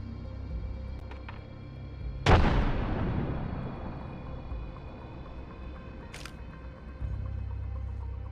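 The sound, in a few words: frag grenade explosion in video game Apex Legends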